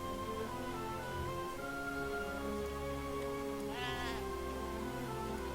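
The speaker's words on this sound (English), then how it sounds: "I think Eaglemut actually stole one of the French sheep, or maybe he ate it" Sheep bleating inside a match of the Age of Empires III strategy game, one wavering bleat rising over a constant bed of game music and ambient sound.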